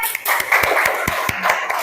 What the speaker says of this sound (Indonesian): Tepuk tangan dulu buat temennya.